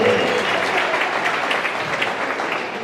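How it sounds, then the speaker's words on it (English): An audience applauds the officials at a volleyball regional game in a gym, dense steady clapping that fades slightly toward the end, with some crowd voices. "We get a round of applause for our 4 officials who dedicated their Saturday to give our players the best opportunity possible."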